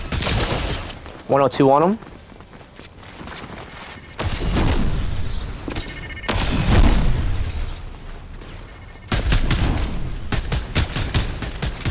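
Sniper rifle shots ring out in a ranked duos match of a battle royale shooter, sharp isolated bursts over continuous game noise, with players talking through most of it.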